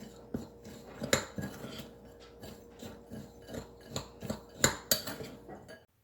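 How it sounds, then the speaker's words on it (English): Pecans and cinnamon tossed with brown sugar in a bowl, giving soft scraping and rattling knocks with a few sharper clinks of a utensil against the bowl, close and fairly quiet, in an irregular stirring rhythm. "you're going to add the pecans and the cinnamon. Going to mix that around."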